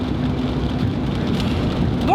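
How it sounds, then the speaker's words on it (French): Heavy rain falling in Mexico, a close, loud, steady hiss of downpour with dense pattering, continuous for the whole stretch. "aujourd'hui c'est notre 6e jour sous la pluie au Mexique"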